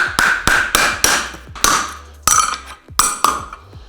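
A farrier drives nails tight into the heel of a horseshoe with a hammer: about a dozen sharp metallic strikes in a steady, uneven rhythm, loud and close, with ringing clinks between blows and no talking.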